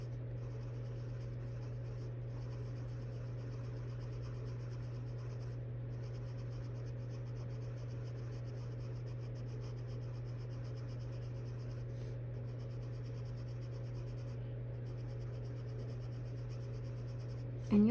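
Crayola Colors of the World coloured pencil shading over a grayscale underlayer on paper, a faint, steady scratchy rubbing of pencil strokes that carries on for the whole stretch beneath a constant low hum, with no speech.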